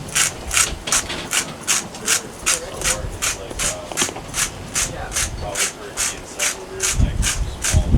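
Salt is ground by hand in a grinder inside a moving rolling kitchen, making a rapid, even series of dry crunching twists, about two per second, close and clear over low road rumble.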